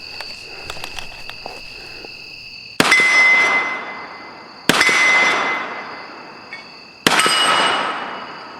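Marlin 1894 tactical lever-action rifle shots ringing off steel targets at a timed range run, three sharp clangs with long ringing decay spaced a couple of seconds apart, after quieter handling noises.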